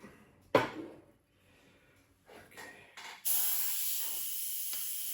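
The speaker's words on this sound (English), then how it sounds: "So I got my airbrush set at about 13 psi, where I typically like to have it." Airbrush set to about 13 psi spraying paint on a 1/48 scale model Sabre, a steady airy hiss that starts abruptly near the end after a few brief bumps and handling noises.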